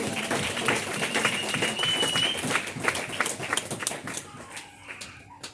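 A church congregation breaks into sustained, lively applause with rapid overlapping claps, and voices carry through it before the clapping thins out toward the end.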